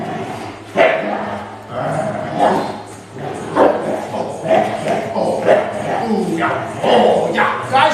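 A dog barks repeatedly in bursts during dog training outdoors, close and loud, with a person's voice talking between the barks.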